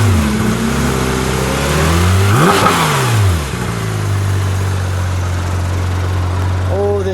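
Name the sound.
Porsche 911 GT3 RS engine revving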